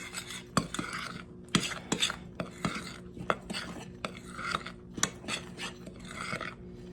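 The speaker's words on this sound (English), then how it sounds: "We're gonna mix this together and get it nice and well combined." Flour and cocoa powder being mixed together in a bowl for chocolate glazed donuts, a steady run of scraping, clinking stirring strokes against the bowl, close and moderately loud with no talking.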